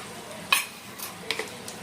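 Ginger garlic paste fries in oil with chicken for a Bihari-style chicken masala. A low sizzle runs throughout, broken by a few quick, close utensil clinks, with no talking.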